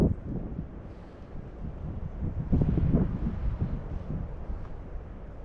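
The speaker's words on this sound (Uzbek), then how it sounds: "Shamol vashi kuchli ekanda tepada" Strong wind blows hard across the microphone up high outdoors, a low, rumbling buffet that gusts strongest near the middle and never drops away.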